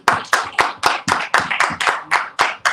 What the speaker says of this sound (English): let's give the mighty captains a round of applause